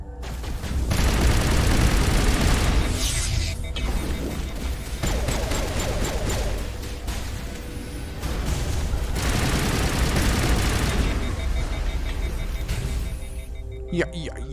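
Gunfire in a Mass Effect firefight, loud sustained bursts of rapid weapon fire and impacts over roughly ten seconds, with brief lulls, and people talking over the shooting.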